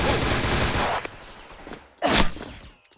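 ARX-160 rifle fire in the Special Force video game: a loud rapid burst of gunshots, a brief lull, then another sharp close volley that cuts off abruptly.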